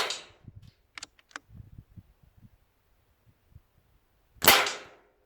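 Air rifle fire with 8.44 grain pellets in a Walther Rotex RM8 versus BSA R10 comparison: a couple of sharp, close shots, each followed by light handling clicks and rustles, with one louder crack near the end.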